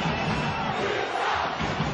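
At a rugby match, the home crowd gives a dense, continuous roar of cheering, loud and sustained for the whole moment.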